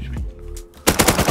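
Rapid automatic gunfire in the video game Rust erupts loud and close after a quieter moment, continuing as a dense burst of shots.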